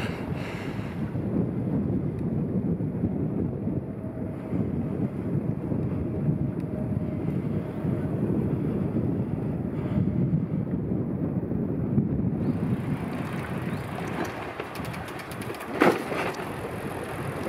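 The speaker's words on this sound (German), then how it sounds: "trotz Wind." Steady wind buffets the microphone while cycling along the Mur cycle path, a low rumbling roar that persists throughout with a few brief gusty bumps near the end.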